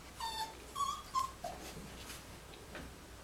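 Young Portuguese Water Dog puppies whimper softly, three thin whining cries in quick succession followed by fainter whimpers, close and quiet in a still room.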